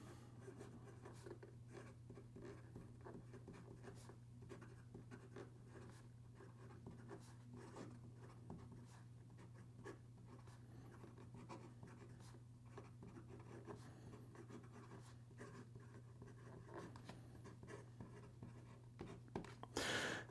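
A Rockster Daydreamer fountain pen moves over paper, its nib giving a faint continuous scratchy whisper with gentle feedback, steady and close over a low background hum, with no talking.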